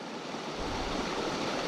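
White water from a small Nevada stream rushes steadily into a small man-made pool, a constant close broadband hiss with no voices over it.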